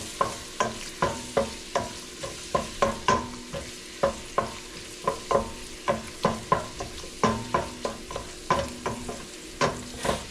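Garlic frying in cooking oil for chicken tinola, a soft constant sizzle under regular, rhythmic scraping strokes of a utensil stirring in the pan, close and fairly quiet, no voices.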